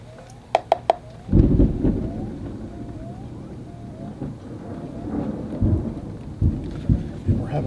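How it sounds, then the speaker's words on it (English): Thunderstorm with deep rolling thunder and steady rain, heavy rumbles building and swelling several times against a continuous wash of rainfall, with a few sharp clicks near the start. "we're having a little bit of a thunderstorm here"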